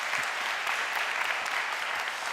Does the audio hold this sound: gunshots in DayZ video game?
no